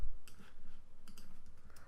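Small, faint clicks of a computer keyboard as a function key is pressed during animation editing, a few light taps spaced across a short quiet stretch.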